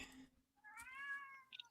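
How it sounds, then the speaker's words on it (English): A domestic cat gives a single drawn-out meow, rising and then falling slightly in pitch, close and clear with no talk over it. "That's not my cat."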